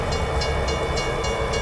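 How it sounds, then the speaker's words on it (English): In American Truck Simulator a train runs beneath a bridge, giving a loud, steady rumble with faint regular clicks repeating throughout. "the train must be going under the bridge there."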